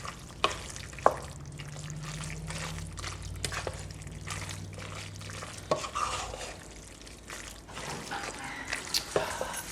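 A spoon stirs grated Italian cheese into cooked noodles in a home kitchen pot, giving soft, irregular scraping and wet clinking sounds with occasional sharper knocks against the pot, fairly close and moderately quiet, with no talking.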